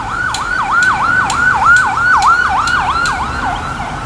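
A wailing ambulance siren sweeps up and down in steady repeated cycles, loud and fairly close, heard from an overpass near the New Demerara Bridge on an early Saturday morning, with no talk over it.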